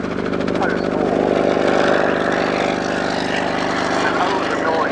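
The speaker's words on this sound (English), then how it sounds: "the noise of the 9-cylinder air-cooled Aldous Leonides radial engine at 550 horsepower" Bristol 171 Sycamore helicopter with a 550 horsepower nine-cylinder air-cooled Alvis Leonides radial engine at an airshow: a loud, steady throbbing drone with rhythmic rotor beat, close and continuous throughout, with a voice talking over it.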